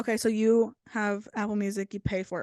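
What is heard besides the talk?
No distinct noise like a dog, phone or traffic.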